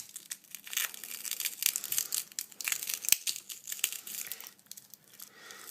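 Cracked HTC phone screen glass being pushed out crackles and crunches in small crinkling bursts, close and fairly quiet, with a brief sharp snap midway and no talking.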